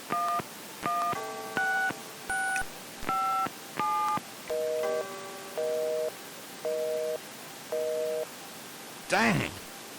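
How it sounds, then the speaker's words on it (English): Telephone keypad dialing in the adventure game Gabriel Knight: a rapid run of distinct DTMF tone beeps, then slower, evenly spaced tones, ending with a brief electronic burst, clear with no talk. "Gabriel is looking to make a late night phone call"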